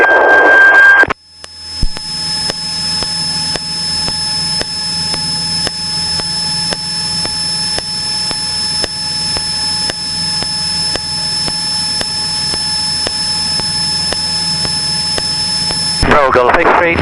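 A Cessna's engine drones at steady full power on the takeoff roll, a loud constant tonal roar with a faint whine on top, holding unchanged for about fifteen seconds between brief radio-like sounds at the start and end.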